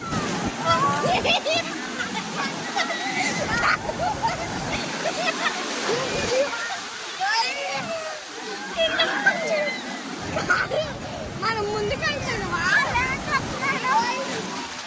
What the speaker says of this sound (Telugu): చూడండి అలలు చూడండి ఎట్లా వస్తున్నాయో